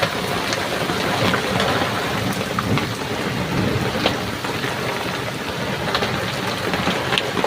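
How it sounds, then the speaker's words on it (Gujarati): Steady heavy unseasonal rain and hail patter all around in Gujarat, with occasional sharp hits on surfaces and low rumbles of thunder underneath; no voices. "ચારે બાજુ બરફ પડવાનો અવાજ આવી રહ્યો છે"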